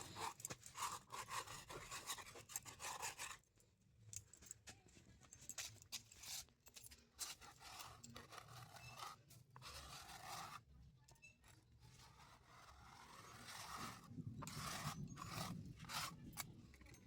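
Rough rasping strokes scrub moss off the floor of a rooftop garden, coming in close, uneven bursts with brief pauses between them.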